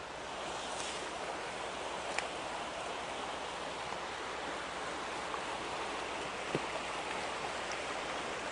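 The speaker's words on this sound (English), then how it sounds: "I hear water running out there" Water running outdoors near a still: a steady, even rush of flowing water hisses continuously at moderate distance, broad and unchanging, with a few faint clicks and knocks breaking through.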